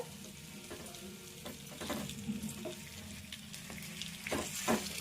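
Potato pieces fry gently in a pan on a low stove, a soft continuous sizzle broken by several louder scraping stirs and clatters, close and faint with no talking.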